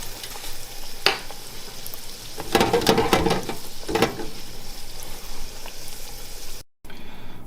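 Cadbury Creme Egg deep frying in hot oil, a steady bubbling sizzle with a few sharper crackling bursts, close and moderate, ending in a brief cut.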